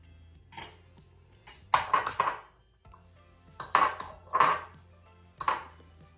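Eggs go into a mixing bowl of creamed sugar and butter with a series of light clinks and taps of shell and utensil against the bowl, quiet and spaced, with no talking.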